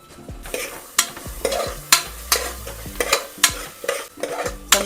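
Washed moong dal roasting in ghee in a pan, stirred with a spoon in regular scraping strokes about once a second over a soft, close sizzle.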